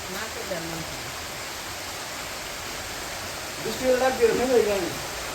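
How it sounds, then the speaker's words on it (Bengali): Steady rain pours down in a broad, even hiss that holds throughout, with a brief swell of splashing louder drops near the end. "আর অমনি বৃষ্টি নেমে গেল"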